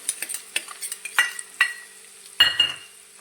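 Onion and garlic sauté over a high flame in a pan for dry cabbage Manchurian, a steady soft sizzle broken by a run of spoon scrapes and several sharp metallic clinks against the pan.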